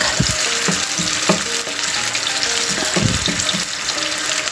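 Water goes into a pan of browning ground pork, and a loud, steady rush of hissing and bubbling is broken by a few heavier splashing bursts.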